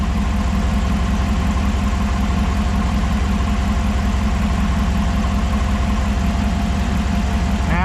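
A 2009 Hemi V8 idles steadily with its air-conditioning compressor engaged, giving a loud, continuous low rumble with a faint mechanical ticking throughout and no voices.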